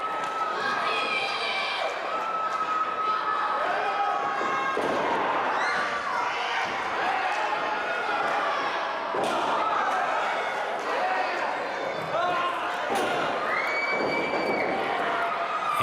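Wrestlers slam into the ring turnbuckle during an indie wrestling show, heavy thuds and smacks scattered through a continuous, noisy crowd roar with a commentator talking over it.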